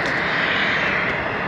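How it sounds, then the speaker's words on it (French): An airplane takes off in the distance near Amsterdam, heard as a steady, full engine roar that holds evenly throughout with no voices over it. "il y a un avion qui décolle au fond"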